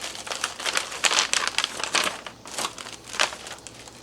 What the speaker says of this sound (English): I'm zipping them a little bit shut.